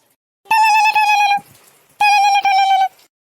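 A phone ringtone plays a bright, melodic electronic trill in two bursts, each lasting about a second, separated by a short pause, loud and close.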